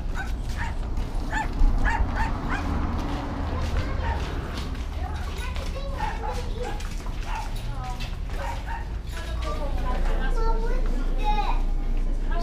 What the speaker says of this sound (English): There's a puppy inside.